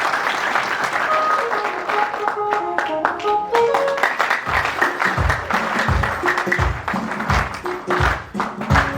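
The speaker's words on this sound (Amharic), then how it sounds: "አጨብጭቡለት" Wedding guests break into applause during a ring exchange ceremony, a dense crowd of clapping that builds and carries steadily, with a few voices and thumps mixed in near the end.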